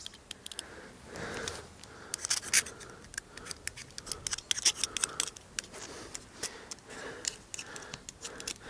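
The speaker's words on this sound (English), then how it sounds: "You then give it a scrape." Scraping the bark ring on a Japanese maple air layer, heard as a close, irregular series of dry scratchy strokes that repeats steadily with no talk.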